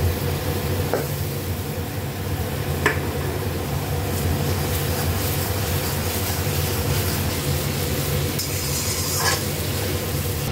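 Garlic and onion paste fries in hot oil with whole garam masala and bay leaf, giving a steady, even sizzle throughout with a couple of faint clinks.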